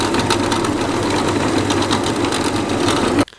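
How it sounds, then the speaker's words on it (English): A power drill bores a small hole in the stock of a 1910s pop gun during its restoration. Close, loud, steady buzzing whir runs for about three seconds and then cuts off abruptly. "drill this little hole here, and it goes on the top right here-ish"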